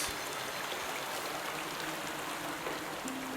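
Water rushes in as the level rises in the adventure game Obduction, a constant, full hiss of flowing water with no pauses and no voices.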